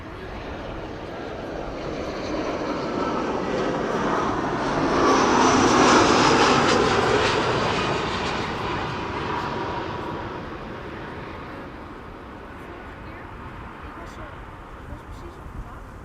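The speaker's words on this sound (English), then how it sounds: "Iberia Express is arriving from Madrid, flight 1791. It is an A320, flight time 2 hours and a minute." An Iberia Express Airbus A320 arriving from Madrid at Amsterdam Schiphol passes overhead, its jet roar swelling to a peak midway and then fading as it moves away.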